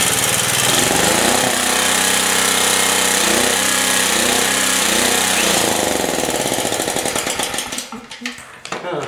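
A Generac G-850 generator with a Kawasaki engine runs under load, a loud, harsh, rapidly pulsing engine clatter that holds steady, then stumbles and fades unevenly toward the end as it struggles.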